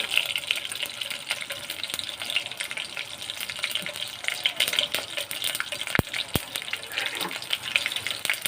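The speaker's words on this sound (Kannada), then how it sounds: "ಈಗ ಒಂದು ಪಾತ್ರೆಯಲ್ಲಿ ಸ್ವಲ್ಪ ಎಣ್ಣೆ ಇಟ್ಟುಕೊಂಡಿದ್ದೇನೆ. ಅದಕ್ಕೆ ಸ್ವಲ್ಪ ಸಾಸಿವೆ ಹಾಕ್ತೇನೆ." Mustard seeds hit hot oil in a pan and sizzle as a steady, close, hissing fry, with a couple of sharp pops near the end and no voice.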